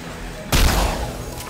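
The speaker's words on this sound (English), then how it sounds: "Wait, who's shooting me?" Gunfire in the sci-fi shooter game Star Trek Elite Force 2, a sudden loud burst of shots starting mid-clip and rumbling on, with faint speech-like game sound.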